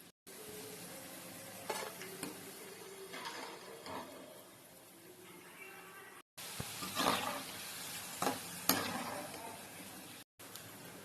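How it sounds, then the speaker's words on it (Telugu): Potato sticks for french fries fry in hot oil with a continuous sizzling hiss, punctuated by occasional stirring and scraping sounds, steady and fairly close. "ఆయిల్ హీట్ అయిన తర్వాత డ్రై అయిన పొటాటోస్ ఫ్రై చేసుకోవాలి."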